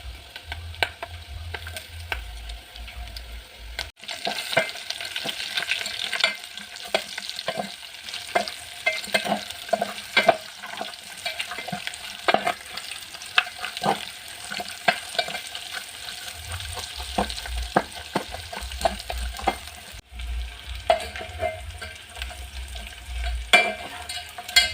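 Onions fry in a pan for spaghetti with meat sauce, a steady close sizzle broken by frequent clacking and scraping of a utensil stirring them, with a low hum at the start and end.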